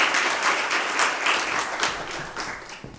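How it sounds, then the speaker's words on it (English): Audience applause at a school Grade 5 prize-giving ceremony, a steady wash of many hands clapping that fills the room and tapers slightly toward the end. "Could you give him a round of applause"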